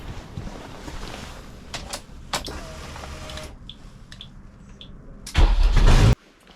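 A Honda EF Civic with a swapped-in SR20DET engine cranks and turns over after some clattering handling sounds, catching with a loud burst before cutting off abruptly.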